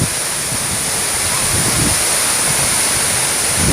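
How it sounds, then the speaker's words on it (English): Rimbi waterfall in Sikkim roars in a steady, dense rush of falling water. It is loud and close, and nobody speaks over it. "How the waterfall is falling down"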